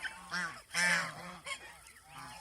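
Several geese at a goose farm honk loudly in overlapping bursts, harsh nasal calls rising and falling close by with brief pauses between.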